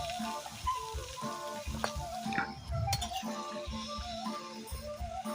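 Ivy gourd (kovakka) sizzles in hot oil as it is stirred in a pan, a soft steady frying hiss with scattered clinks and scrapes of a utensil against metal.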